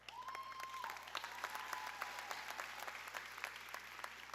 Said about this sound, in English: yeah, you can clap, that's good